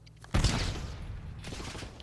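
Gunfire in Call of Duty Warzone on the Verdansk map, a sudden close burst of shots followed by a sustained rattling volley and a second flurry later, fairly loud with no speech.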